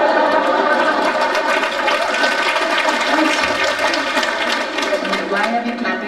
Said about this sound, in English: Why are we clapping for our own reactions?